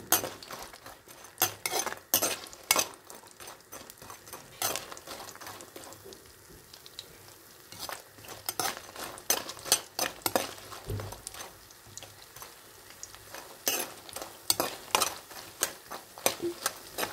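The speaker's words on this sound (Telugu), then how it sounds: "వాటిని కొంచెం గోల్డెన్ బ్రౌన్ కలర్ వచ్చేదాకా వేయించుకోవాలి" Sun-dried vadiyalu fritters frying until golden brown, with frequent metal clinks and scrapes of a utensil stirring in the pan over a faint sizzle, steady and close, with no talking.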